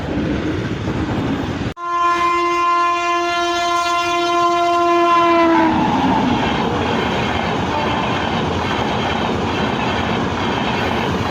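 A train pulls out of a railway station in Thanjavur. A loud, sustained horn blast rings for several seconds, then gives way to the steady rumble and clatter of the moving carriages.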